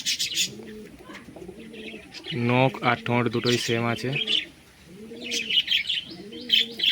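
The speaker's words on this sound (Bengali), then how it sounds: "দেখুন পায়রাটা, নর আর মাদির দুজন চোখই একই।" Pigeons coo in repeated soft, rolling phrases close by, with a louder burst of cooing in the middle, while someone talks over them.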